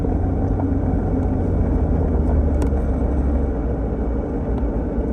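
A truck passing nearby with a steady, loud low rumble of engine and road noise that holds throughout without a clear rise or fade.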